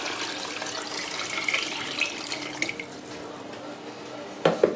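Water pours steadily into a pressure-cooker pot holding lentils and chickpeas for Moroccan harira, a continuous close splashing stream that ends with a few brief sloshes.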